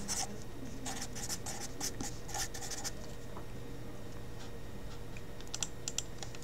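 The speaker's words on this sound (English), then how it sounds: "let me write that more neatly" Marker or stylus strokes writing by hand on a lecture board or tablet during a biology lesson, a run of quick scratchy scribbles in the first three seconds, then sparse short strokes near the end, close and fairly quiet with no talk.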